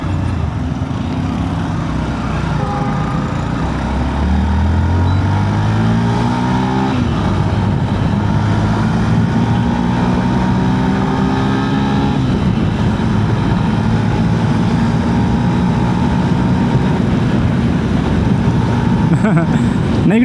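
A 2025 Yamaha FZ Rave motorcycle engine hums steadily while riding, with rising and falling pitch as it shifts and accelerates, heard close under wind and road noise while someone talks over it.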